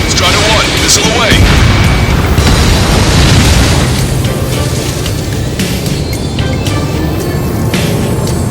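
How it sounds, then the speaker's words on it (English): A fighter-jet missile launch in the Ace Combat 7 flight combat game, heard as a loud, sustained booming roar with rumbling blasts throughout, layered over dense engine and combat noise. "Strider 1, missile away."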